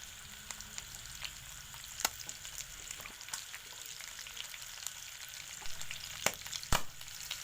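Chopped onions frying in hot oil in a pan for boiled pork, a steady crackling sizzle with soft stirring scrapes and a couple of louder clinks near the end, no voices.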